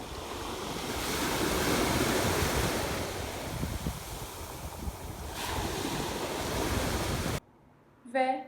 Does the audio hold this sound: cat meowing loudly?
no